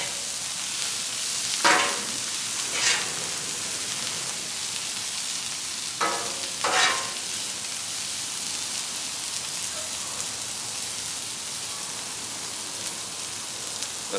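Sliced vegetables tossed with kosher salt in a pan for a Philly beef sandwich: a quiet, steady sizzle broken by two pairs of short rattling scrapes as the pan contents are tossed, with no talking.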